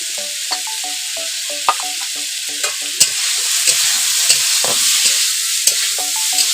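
Cluster figs frying in a pan with turmeric give a steady bright sizzle, with a spatula stirring and tapping now and then, close and fairly loud.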